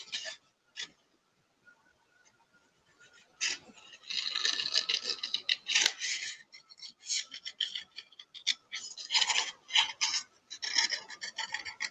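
Scissors cutting out a paper shape for an abstract collage, heard as a run of close, dry snipping and rasping strokes that start sparse and grow into dense, uneven bursts.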